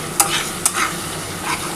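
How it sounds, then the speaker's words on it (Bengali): Chopped onions sizzle steadily in hot oil for doi katla, a Bengali fish curry in yogurt sauce, with two sharp scraping stirs near the start and a continuous frying hiss throughout, no voices. "এর মধ্যে আমি যে পেঁয়াজ দেখো কুচিয়ে রেখেছিলাম পেঁয়াজটা দিয়ে দিলাম"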